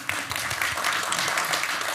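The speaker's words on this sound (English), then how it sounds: "Let's give a round of applause." An audience applauds steadily through the whole stretch, a dense, even patter of many hands at a workshop on brand and executive presence, with no talk over it.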